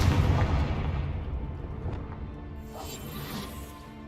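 A Confringo blasting-spell explosion in Hogwarts Legacy: a loud, close boom with crackling debris that fades over a few seconds into a fainter rumble.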